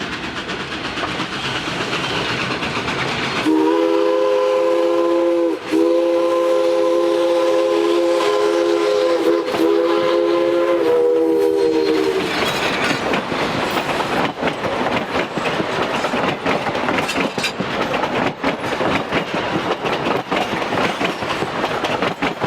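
Durango and Silverton steam locomotive 476 rolls along the narrow-gauge line between old homes and the Animas River Trail, its steam whistle sounding a long, steady blast over continuous rumbling and clacking wheels on the rails.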